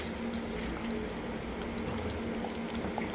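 A pot of dinuguan, a Filipino pork blood stew, bubbles on the stove with a steady, close, soft boiling burble and occasional popping bubbles.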